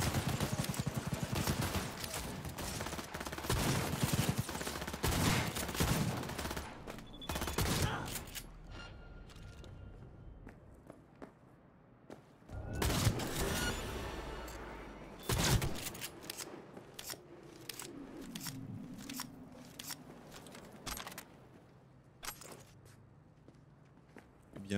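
Shotgun blasts in Cyberpunk 2077 during an attack on Hanako Arasaka's convoy: several loud, sharp booms stand out amid rapid bursts of other gunfire and clanking mechanical noise, with a voice speaking at times.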